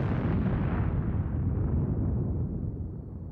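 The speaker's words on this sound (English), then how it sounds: "the British detonated the first of five massive mines planted underneath the German line" Massive mines detonated under the German line in World War One, one deep roaring blast that rumbles on and slowly fades, loud and alone.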